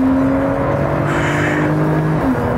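A Porsche 991 Turbo accelerates on a racetrack, its engine droning loudly and steadily with a rising whine, close and continuous, with no talk.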